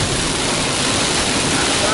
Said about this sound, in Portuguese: Agora encontrei chuva.